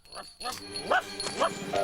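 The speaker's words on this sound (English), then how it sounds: "And I never heard him bark before." A cartoon dog in the Noddy animated series barks a few times in quick succession, close and fairly loud, with a jingling bell tone in the background.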